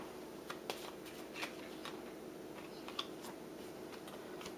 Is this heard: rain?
no